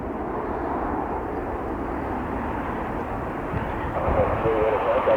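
American Airlines airliner passing over the runway at Cleveland, a loud steady engine roar filling the scene as it flies overhead.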